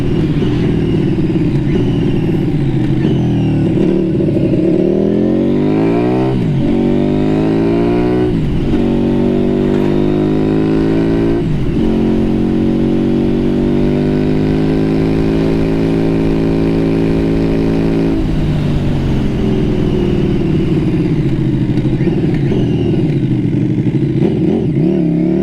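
A Suzuki Street 500 motorcycle engine hums steadily in sixth gear at about 50 mph and 3,300 RPM, its pitch rising and dipping with a few throttle changes, loud and close with no voices.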